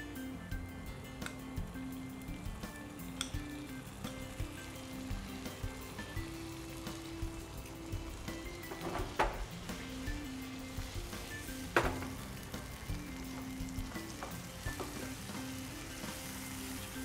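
Soft, steady sizzle of tomato hitting fried ginger curry paste in a pan, faint frying crackle with occasional small clicks and stirring taps, no talking.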